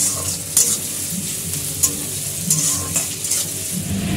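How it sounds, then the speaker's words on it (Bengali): Onions sizzling steadily in a pan as they fry until reddish, with a few sharper clinks and stirring scrapes breaking through the continuous hiss, close and fairly loud, no talk. "লাল লাল করে আমরা পেঁয়াজগুলোকে ভেজে নেব।"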